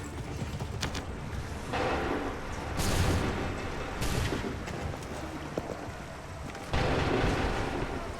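Musket volleys in Assassin's Creed III crack out in several broad bursts over a steady battlefield din, with the loudest rolling volleys near the middle and near the end.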